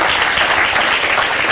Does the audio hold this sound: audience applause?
yes